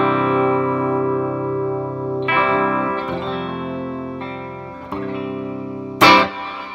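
Electric guitar with very low output pickups through a Divided by 13 CCC 9/15 EL84 amp with reverb, sustained chords rung out and changed several times, ending on a brighter strum, alone and close.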